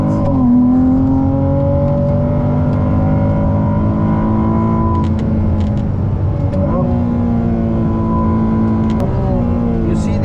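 A high-pitched Ferrari 296 GTB engine revs hard and close, its pitch climbing steadily, then dropping sharply with each gear change.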